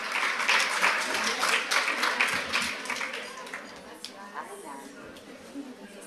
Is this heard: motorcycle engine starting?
no